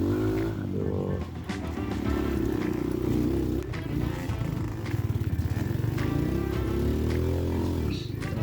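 A motorcycle engine revs hard and steadily on a muddy mountain trail on Mount Guntur, a loud, close, continuous drone rising and falling in pitch as the throttle is worked, with a voice speaking over it.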